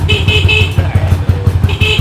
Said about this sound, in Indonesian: Motor balap bisa starter.